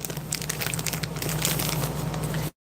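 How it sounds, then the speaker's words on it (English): A plastic Ziploc bag from a First Strike Ration is handled up close, giving steady crinkling and crackling rustles for over two seconds before stopping abruptly, no talking. "off the top here is just a plastic bag."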